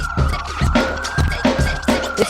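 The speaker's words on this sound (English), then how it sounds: "These are authentic Bushwick sirens right here." Loud police sirens wail continuously in Bushwick, a steady rising-and-falling tone pulsing in repeated cycles and filling the scene on their own.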